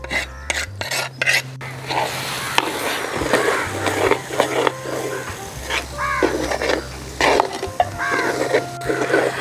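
Chili powder being stirred and scraped through a fish head curry masala in a Kerala-style pan, with repeated rasping, rubbing strokes of a spoon against the pan under light kitchen noise.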